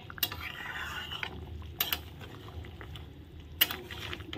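A spoon scrapes and clanks against a cooking pot while fried boal fish heads are stirred in a simmering mixture, with three sharp metallic knocks spaced between softer scraping and bubbling, near and alone without talk.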